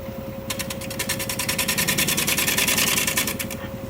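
A wood lathe turns a spalted maple deep bowl at 600 RPM with a steady, close motor hum. A rapid, rhythmic chattering rises over the hum for several seconds, and no one speaks.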